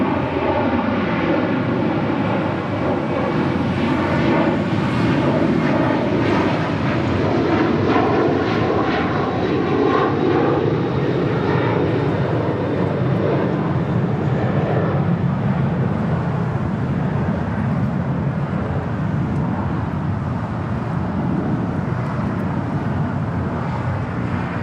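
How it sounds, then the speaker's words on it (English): An American Airlines Boeing 737-800 arriving at LAX from Chicago O'Hare gives a loud, sustained engine roar with a wavering whine that slowly fades, and no talking. "This flight coming in from Chicago O'Hare, American Airlines flight 1383 at the 737-800."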